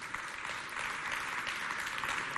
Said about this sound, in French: On applaudit très fort Bruno.